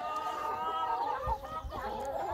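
Hybrid laying hens bred for maximum egg production clucking nearby, a steady run of throaty, overlapping clucks and murmurs at moderate loudness, with no voices over them.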